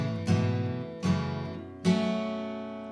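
Guitar picks out the low bass strings of a song in a short instrumental passage, with three ringing plucked notes spaced about a second apart, each decaying slowly, played alone and fairly close.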